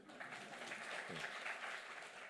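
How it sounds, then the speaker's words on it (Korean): A church congregation at a Sunday worship service gives a short burst of applause, faint and fairly distant, with a voice briefly heard in the middle. "박수 한번 쳐드리죠"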